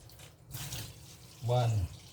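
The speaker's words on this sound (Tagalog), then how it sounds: "Tapos, lagyan natin ng tubig." Water runs briefly into a pot, a short splashing pour amid quiet kitchen noise, with a voice speaking around it.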